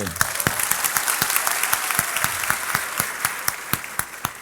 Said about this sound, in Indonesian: Tepuk tangan sekali lagi untuk Mbak Tejo.